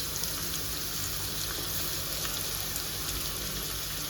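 Chopped onion and green chili sautéing in a pan give off a steady, dense sizzle and crackle that continues without pause, loud and close.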